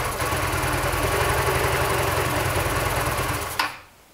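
An engine runs rough and uneven after its fuel valve is disconnected, sucking air with a loud, continuous rattling drone before cutting out abruptly near the end, leaving near silence.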